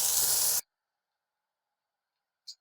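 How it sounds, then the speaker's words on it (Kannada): Ginger and garlic pieces frying in a pan with onion and green chilli, a loud steady sizzle for about half a second, then silence and a brief faint hiss near the end. "ಇದನ್ನು ಸ್ವಲ್ಪ ಫ್ರೈ ಮಾಡ್ಕೊಳ್ತಾ ಇದ್ದೀನಿ."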